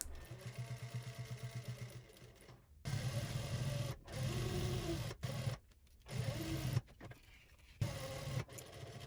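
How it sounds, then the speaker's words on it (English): A sewing machine stitches a folded edge on a patchwork hoodie made from bandanas, running in close, loud bursts of rapid whirring with short pauses between runs. "you just want to make sure you're sewing pretty close to the edge so you catch that fold"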